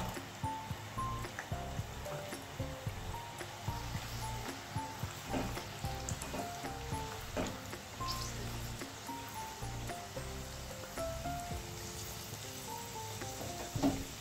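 Peanuts, cashews and raisins frying in hot oil, giving a steady close sizzle with bubbly crackles and occasional stirring, while someone speaks quietly over it.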